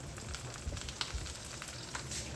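Eggplant frying in a covered pan, giving a steady soft sizzle and crackle with a few small pops, quiet and close, no voices.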